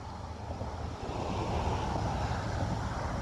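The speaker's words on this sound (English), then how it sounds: "The wind gusts." Wind gusts buffet the microphone during a DJI Mavic Mini drone flight, a continuous broadband roar that swells louder after the first second and holds steady, with no voices over it.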